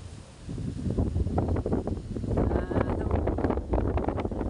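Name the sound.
strong monsoon wind on the coast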